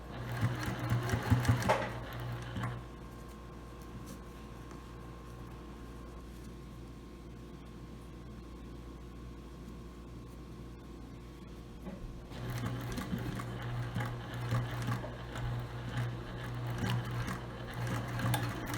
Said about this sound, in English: I'm back stitching.